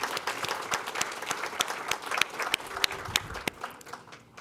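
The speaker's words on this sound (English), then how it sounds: "I want to give you all a round of applause." Employees at a Women's History Month event of the Metropolitan Water Reclamation District get a steady round of applause from an indoor audience, many hands clapping at a moderate distance with sharp individual claps standing out.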